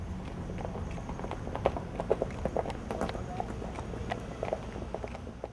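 Horse hooves clip-clop in a steady, uneven patter at moderate distance, with background rumble and no talking.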